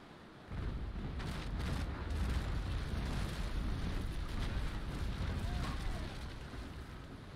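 A ship's cannon broadside in Naval Action rolls out as a sustained, heavy booming roar that rises abruptly and rumbles on for several seconds before easing slightly.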